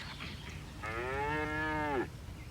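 A single cow gives a long, clear moo lasting about a second, close and loud over a low background hum, in a Kemp's ice cream commercial.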